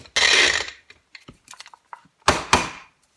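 A container of minced breadcrumbs with some big chunks is shaken in a few quick bursts, loose crumbs rattling and hissing against the sides with short clicking pieces in between, close and alone.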